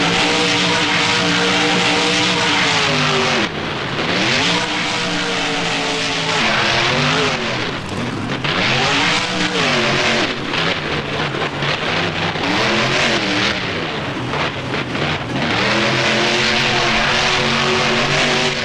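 Monster truck engine in BeamNG revving hard and steadily, pitch rising and falling in sweeping waves as the truck spins on a dirt mound in a stadium freestyle run, loud and close with no talk.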